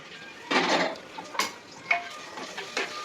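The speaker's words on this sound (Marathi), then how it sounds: "आता त्याच्यात आपण फुटलेला लसूण टाकू" Crushed garlic goes into onions frying in a pan, heard as a faint sizzle under several distinct scraping and clattering strokes of a utensil against the pan.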